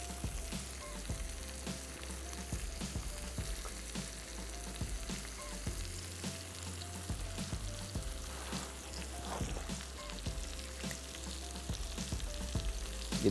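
Chicken frying in a pan with fresh coconut, a continuous close sizzle with small crackles and pops and occasional stirring scrapes.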